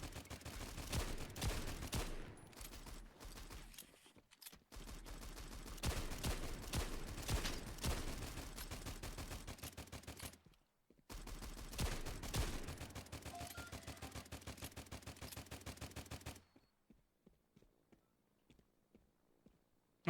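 Rapid video-game gunfire in a multiplayer event questline, dense bursts of automatic shots filling most of the stretch with brief gaps, then stopping abruptly into near silence near the end.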